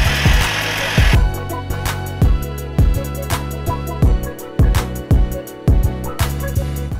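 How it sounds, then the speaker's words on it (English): A small buffer attachment spins 500 grit sandpaper against a car headlight lens for restoration, giving a steady close whir with repeated rhythmic scraping pulses roughly every half second, loud and alone without talk. "this little buffer attachment with the 500 grit sandpaper on here"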